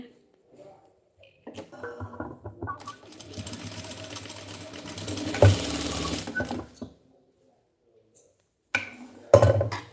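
Sewing machine stitching gathered fabric runs in a steady whir for several seconds, stops, then gives a short final burst, with a voice talking nearby.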